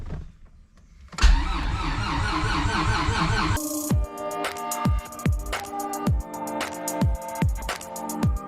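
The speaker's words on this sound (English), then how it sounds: "So let's see if it'll crank." A Honda Civic fitted with a stroker V6 swap cranks over: a short whir comes first, then a loud rhythmic starter churn that does not catch, with each compression stroke sounding as a distinct pulse, close to the microphone.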